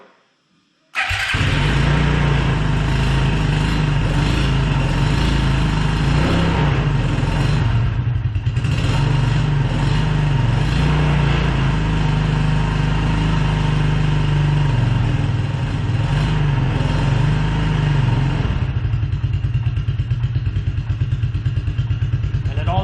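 A Suzuki King Quad 300 ATV engine idles steadily and loudly up close, a continuous low rumble with a slight rattle, running without a break for nearly the whole stretch.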